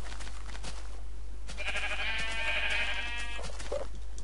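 A Minecraft sheep lets out a single wavering bleat in the middle, fairly close, over a steady low hum and faint clicking game sounds.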